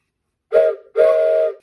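Two short model train whistle toots, the second longer, sounding clear and close against silence.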